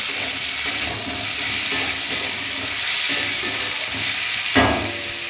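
A metal spoon scrapes and stirs thinly sliced, box-cut potatoes in a hot pan, with soft clatters and a continuous sizzle, plus a sharper knock near the end.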